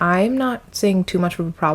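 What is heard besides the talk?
No distinct noise like a dog, phone or traffic.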